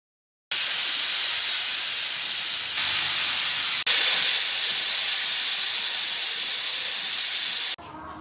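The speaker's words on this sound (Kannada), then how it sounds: "ಎರಡು ವಿಸಿಲ್ ಬರಬೇಕು" A loud, continuous steam hiss from a pressure cooker releasing pressure for several seconds while cooking vegetable pulao, then stopping abruptly, leaving faint background noise.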